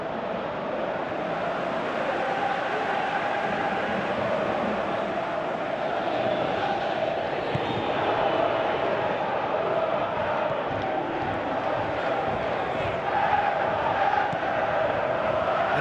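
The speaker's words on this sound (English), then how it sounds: "you can feel and hear how the crowd are reacting to all of this." Constant dense crowd roar filling a football stadium during a Croatia versus England match in PES 2018, a steady wash of noise with slight swells and no commentary.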